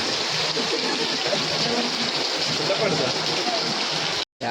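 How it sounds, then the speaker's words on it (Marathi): Steady heavy monsoon rain falls in a dense, even hiss close by during Gokulashtami festivities, cutting out abruptly just before the end. "आता पावसाने तर काय चांगला जोर मारलेला आहे"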